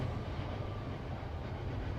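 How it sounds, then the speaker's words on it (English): Freight train with stacked containers on flatbed cars passing by a baseball stadium, a steady low rumble of rolling cars heard from some distance, continuous and even throughout without talk. "And there goes another train. This one going the other way."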